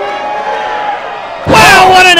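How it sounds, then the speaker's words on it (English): A wrestler drops a savage elbow from the top rope onto an opponent in a pro wrestling ring, giving one loud, sudden impact after a stretch of steady commentary, followed by a roaring, cheering crowd. "That's a savage elbow drop that was."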